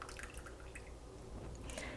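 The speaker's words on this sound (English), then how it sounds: "you'll have a lot of water draining off of there" Hot water dripping and trickling off a freshly cooked artichoke, a close, continuous patter of drips with scattered louder splashes and no talking.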